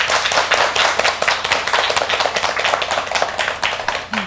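Audience at a lecture on teaching children English speaking claps in sharp, rhythmic unison, loud and close, a steady beat of crisp hand claps.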